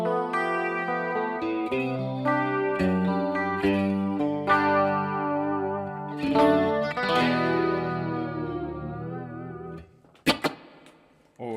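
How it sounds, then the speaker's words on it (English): Electric guitar ringing out sustained chords and single notes through a chorus effect with long reverb, loud and close, playing alone with no voices, ending in a few sharp plucks. "And of course you can add chorus to that or whatever you want."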